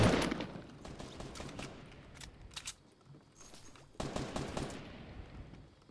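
In Fortnite Battle Royale, bursts of gunfire crack out in rapid, uneven volleys at fairly low level, with a short lull in the middle before the shooting resumes.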